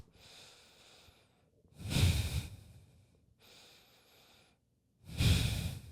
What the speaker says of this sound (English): Take that deep breath.